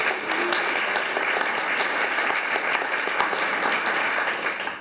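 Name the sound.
audience applause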